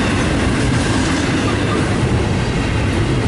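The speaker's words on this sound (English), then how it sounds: "I'm out Ontario, one train, that train's heading westbound, and eastbound's coming at me right now." A westbound freight train led by an ex-Southern Pacific locomotive with flashing ditch lights rolls past near Ontario, a loud, steady, close rumble and wheel clatter that fills the whole stretch with no voices.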